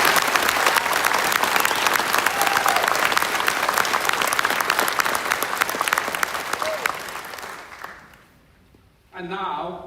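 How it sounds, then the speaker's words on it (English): A graduation ceremony crowd gives the graduating class a loud, sustained round of applause that gradually thins and dies away, followed by a voice starting to speak. "Let's give them another big round of applause."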